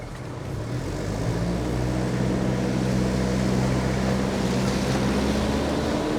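A Toyota Hiace van engine roars at full throttle, rising quickly then holding a loud, steady droning rev close to the microphone.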